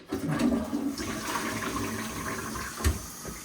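A household toilet flushes up close, a sustained rushing swirl of water draining and refilling the bowl, heard alone with no voices.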